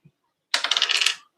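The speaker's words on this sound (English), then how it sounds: "I'm just going to roll it twice." A six-sided die is rolled on a hard surface. After a faint tap comes a short burst of rapid rattling clicks that fades out within about a second.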